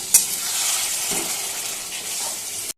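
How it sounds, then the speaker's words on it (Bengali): Taro leaves (kochu shaak) fried in a pan after water from the spice bowl is added, stirred with a spatula: a close, steady hiss and sizzle with a few scraping knocks, no speech. "আবারও নাড়াচাড়া করে নিচ্ছি"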